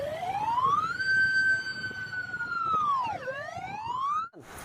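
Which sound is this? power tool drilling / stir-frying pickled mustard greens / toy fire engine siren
toy fire engine siren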